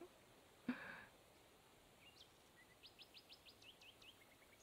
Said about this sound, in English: I love that you can hear the birds and everything.